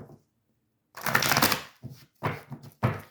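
Tarot card deck being shuffled by hand, a few quick papery riffling bursts close up, separated by brief pauses.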